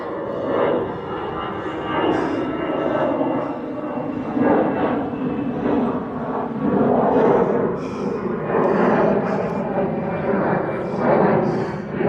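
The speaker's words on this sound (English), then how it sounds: "Oh, another plane." A steady roar of an airplane passing overhead in the woods, droning low and broad throughout, with rain and outdoor noise and occasional bursts of talk.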